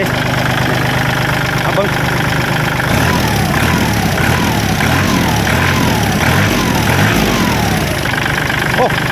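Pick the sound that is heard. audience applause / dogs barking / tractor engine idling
tractor engine idling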